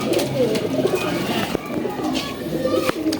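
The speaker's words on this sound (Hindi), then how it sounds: "ये इतना जंगली है, बहुत जंगली कबूतर है" Deobandi and Bajrai pigeons cooing in a loft, soft repeated low coos running steadily throughout with a busy background of shuffling and small knocks.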